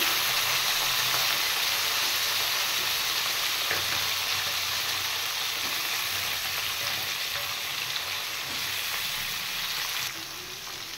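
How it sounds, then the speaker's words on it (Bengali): Drumstick pieces and potatoes sauté in hot oil for a fish curry, giving a steady, loud sizzle with occasional stirring scrapes throughout. "এবার আমি পরিমাণ মতো নুন আর হলুদ দিয়ে সবজিগুলো একটু সাঁতলে নেব"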